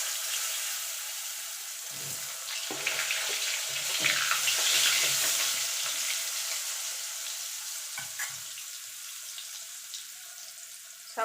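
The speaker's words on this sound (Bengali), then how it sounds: "প্রথমে আলুটাকে ভেজে নেব।" Potato pieces fry in hot oil left over from frying fish in a pan for a cauliflower-potato koi fish curry, giving a steady close hiss with occasional soft clinks and stirring noises, no voices.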